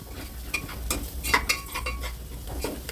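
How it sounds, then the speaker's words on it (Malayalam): A spoon stirs tomato rice with pepper powder in a pan, making quick repeated scrapes and clinks over a low sizzle, close and continuous, no speech. "നന്നായിട്ട് ഇളക്കി കൊടുക്കാം"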